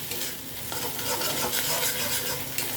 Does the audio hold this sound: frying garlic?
yes